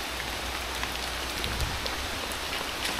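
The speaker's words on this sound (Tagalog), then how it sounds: "Parang ang lakas ng ulan ah." Heavy rain pouring outdoors, a constant loud hiss of drops hitting surfaces nearby, with a few louder spatters and no voices.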